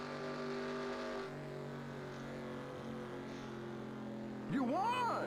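Simulated NASCAR Truck Series engines at Atlanta in the NR2003 racing game drone steadily at full throttle coming out of turn four, a dense harmonic roar that rises in pitch near the end, with a voice talking over it.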